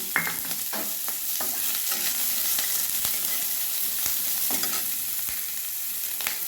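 Chopped onion fries in a pan with whole spices, a soft continuous sizzle broken by repeated scraping stirs of a spoon, close and moderately quiet, no voices.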